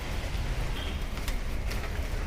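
Steady rain falls outdoors where potted indoor plants have been set out, a constant dense hiss with scattered sharper drops, no voices.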